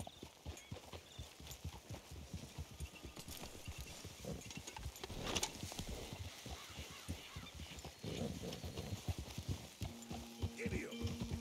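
A horse's hooves clip-clop at a steady rapid gallop in the video game Red Dead Redemption 2, with voices talking over the hoofbeats and outdoor ambience.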